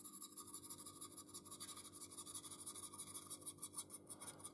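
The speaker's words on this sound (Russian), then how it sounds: "берем, опять же, кисточку и вот такими вот вертикальными движениями" Soft scratchy rasping of a brush working dry pigments onto a 1/35 scale Stuart tank model with vertical strokes, close and quiet, a steady run of short rubbing strokes with no talking.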